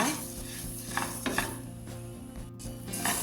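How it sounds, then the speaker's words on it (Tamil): Coriander seeds dry-roasting in a pan over medium heat, a soft rustling crackle with repeated scraping and stirring clinks of a spoon against the metal. "வறுக்கும் போது மிதமான சூட்டில் வச்சு வறுத்துட்டுக்கொள்ளுங்க."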